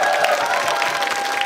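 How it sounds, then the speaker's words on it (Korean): Applause from a live talk-show audience in Yongin, a short burst of dense, loud clapping mixed with crowd murmur and a little cheering. "박수."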